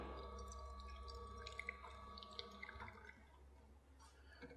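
Faint trickling and dripping of water being poured into part of a coffee machine during a barista cleaning routine, soft and close over a steady low electrical hum.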